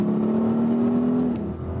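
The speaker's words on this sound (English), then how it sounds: "It does have a nice V8 burble" Deep V8 burble from an Audi RSQ8 or Porsche Cayenne GTS super SUV, a loud, close, steady throaty drone with a sustained tone that drops away near the end, no voices over it.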